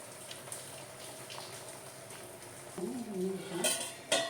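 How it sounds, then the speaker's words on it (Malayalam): Cut mackerel pieces dropped into a bubbling Kerala-style fish curry with coconut milk and kudampuli, making soft plops and clinks of utensils against the pot, close and moderate in volume, with a sharper clatter at the end. "ഇനി നമുക്കിതിലേക്ക് മുറിച്ച് വെച്ചിരിക്കുന്ന അയല ഇട്ട് കൊടുക്കാം"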